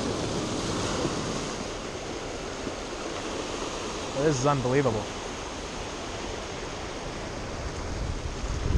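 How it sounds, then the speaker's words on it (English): Ocean waves wash and splash onto the shore at San Pedro, a steady, loud broadband surf roar that fills the whole stretch, with a voice briefly exclaiming over it midway. "this is clearly getting splashed when the waves come in"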